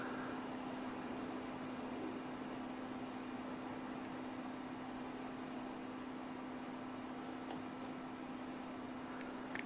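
An automated kitchen range hood fan runs steadily with a constant hum and airy whoosh, fairly quiet, holding a continuous drone with a couple of faint clicks near the end.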